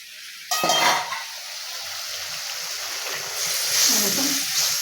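Curry broth for a Bengali village-style potol (pointed gourd) dish bubbling in a pot, a sudden loud burst of sizzle and steam followed by continuous hissing and gentle bubbling, swelling again toward the end.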